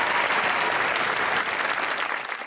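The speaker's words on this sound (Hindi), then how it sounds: "लाइबा के लिए एक दफा तालियां यार" A studio audience claps for Laiba on a Pakistani comedy interview show, with dense, loud applause filling the whole stretch before tapering slightly at the end.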